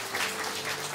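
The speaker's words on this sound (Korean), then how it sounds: "그 나올 때 우리 큰 박수로 환영하도록 하겠습니다" A church congregation at a mission testimony service breaks into a brief burst of applause to welcome performers, a short wash of clapping with no speech.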